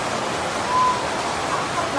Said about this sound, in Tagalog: Ang lakas na ng tutulo dito sa loob.